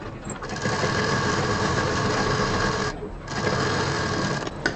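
Sewing machine running steadily while stitching a single folded edge of cloth, a continuous loud whirring hum with one brief pause partway through.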